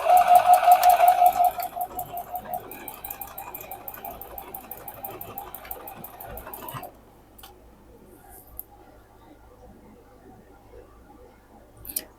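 A sewing machine stitches quilt block pieces, a fast, even ticking run that loudens then carries on at a lighter pace before stopping, leaving quiet room noise.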